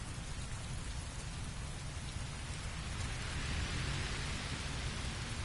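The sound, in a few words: heavy rain in the video game Heavy Rain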